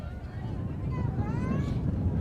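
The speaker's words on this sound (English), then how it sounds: "It is really windy." Strong wind buffets the microphone at a Thanksgiving Day football game between the Rangers and Titans, a steady loud rumble throughout with faint voices underneath.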